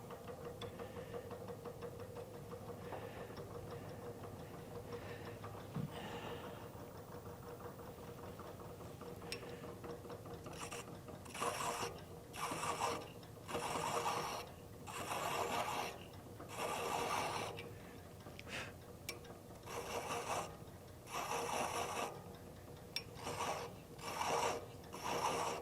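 A lathe hums steadily as threads are cut into acrylic, while repeated rasping, rubbing strokes of the cutter come through in rhythmic bursts during the second half.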